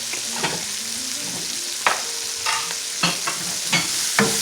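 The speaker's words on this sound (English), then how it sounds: "So basically I just want to saute." Onions sautéing in a pan for smothered pork chops, a loud close steady sizzle with intermittent scraping stirs, no talking.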